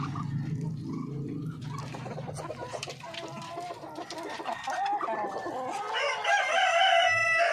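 Roosters and chickens, including large gamecock breeders around four kilos, clucking and crowing in a busy farmyard chorus, several birds calling near the microphone with a crow rising toward the end.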